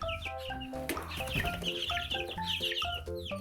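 Cheonggye chicks 28 days old peep and cluck in quick, overlapping bursts, fairly close and busy, with no talk.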